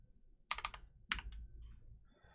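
Computer keyboard keys clatter in two short bursts of rapid typing while an HTML comment is entered, close and fairly crisp, with brief pauses between flurries and no talk.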